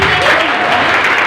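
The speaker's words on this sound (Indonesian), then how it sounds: "Tepuk tangan." A school crowd at a student council candidate debate gives a short, dense burst of applause, loud and close, filling the whole moment.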